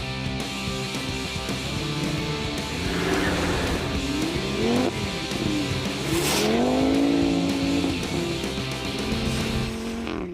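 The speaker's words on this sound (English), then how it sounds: "As a last test, the Audi needs to demonstrate its dynamic capability on snow." An Audi RS3 engine revs up and down through gears at close range on snow, with bursts of tire squeal as it slides and accelerates.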